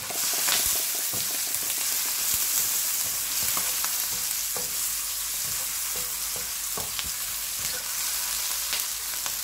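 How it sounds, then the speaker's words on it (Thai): Chili and garlic stir-frying in hot vegetable oil for a Thai basil stir-fry, a steady close sizzle and crackle with scattered sharp pops and occasional stirring scrapes, continuous throughout with no talking. "ป้าก็จะใส่น้ำมันพืชลงไปนะคะแล้วก็ตามด้วยพริกกระเทียมนะคะที่เราโขลกกันไปเมื่อกี้นะคะ ผัดให้หอมเลยนะ"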